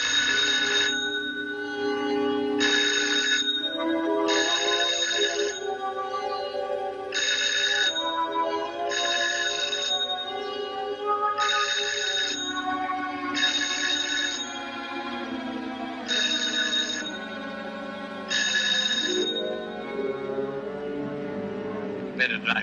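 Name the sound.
telephone ringing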